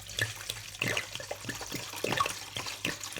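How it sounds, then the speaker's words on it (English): Vodka pours into the bowl of a stand mixer, a continuous close splashing gurgle of liquid lasting a few seconds. "So the first thing that goes in is 710 mils of vodka"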